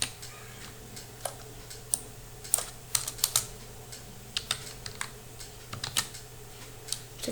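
Irregular clicks of typing on a computer keyboard, close but fairly soft, with bursts of quick keystrokes and short pauses over a low steady hum; no talking.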